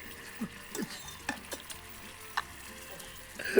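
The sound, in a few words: pouring vegetable broth into sizzling pan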